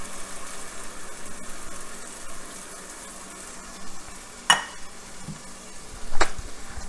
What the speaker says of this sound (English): go ahead and add the diced tomatoes in, and the 1 can of tomato sauce